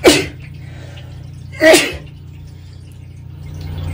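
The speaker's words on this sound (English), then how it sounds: "I'm sneezing, so hold on." Two sharp sneezes burst out close by, about a second and a half apart, over the steady hum of a running water pump in a small room aboard a narrowboat.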